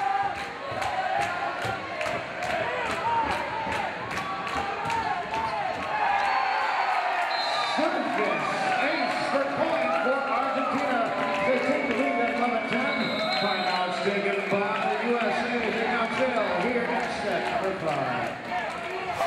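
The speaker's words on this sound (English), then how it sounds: "The crowd going crazy here at JSerra Pavilion" Crowd noise fills a volleyball match at JSerra Pavilion during USA versus Argentina, a steady roar of cheering and shouting that swells after a few sharp bounces and footfalls, with a commentator talking over it.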